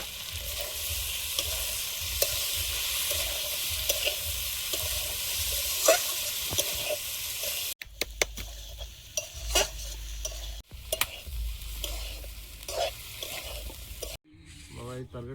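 Green tomatoes and small puti fish fry in a pan, sizzling steadily up close while a utensil stirs and scrapes, with brief clatter of cookware in the later moments.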